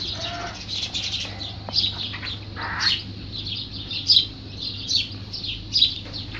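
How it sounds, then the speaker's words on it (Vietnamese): Sparrows and other birds call outdoors near a nest of spotted doves, with scattered short chirps and tweets, moderately distant, repeating irregularly over a low steady background hum. "chim sẻ, chim này em gọi kêu quá trời các bạn."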